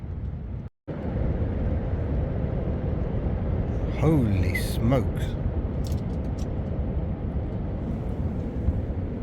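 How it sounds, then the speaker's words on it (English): Strong December storm wind roars steadily around a tent in woodland, a loud broadband rush filling the whole clip while someone talks briefly over it. "you may be able to hear the wind outside"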